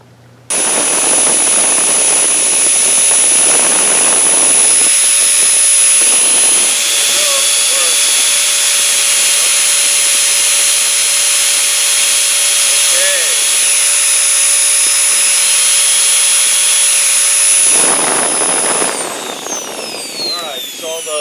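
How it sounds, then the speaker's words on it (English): A Dyson DC15 upright vacuum with a repaired brush bar runs loud and steady, a strong motor whine with a high tone holding for about seventeen seconds before it winds down and switches off. "I'm going to lower it a little bit and see if the brushes roll."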